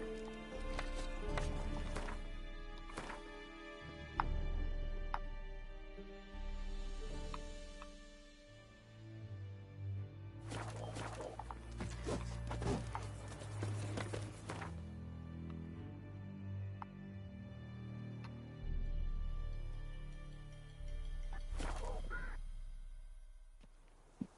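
Geralt's horse Roach galloping in The Witcher 3, a steady clip-clop of hooves under a layer of music, fading and swelling as the ride continues.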